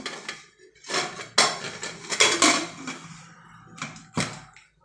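A pressure cooker lid clanks shut on a pot of rice with ghee, several sharp metallic knocks and scrapes of uneven loudness spread across a few seconds, with no talking.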